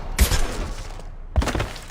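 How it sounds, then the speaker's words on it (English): Gunfire in the video game Mass Effect 2, two sharp, loud bursts about a second apart, each a hard punchy blast with a short trailing rattle. "Quick! Shoot them!"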